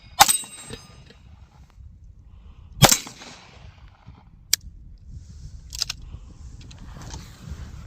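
Outdoor 1911 pistol shots from a Springfield Prodigy and a Tisas Night Stalker, a few sharp isolated cracks spaced seconds apart, heard at a distance over quiet background rumble.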